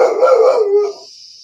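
Several dogs bark and howl nearby at a house, one loud drawn-out wailing cry that fades into a thin, faint whine after about a second.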